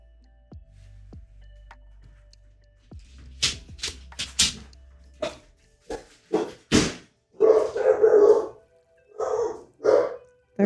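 Several dogs bark in sharp, irregular bursts at close range, growing louder and denser toward the end, with a few yips between the barks and no talk over them.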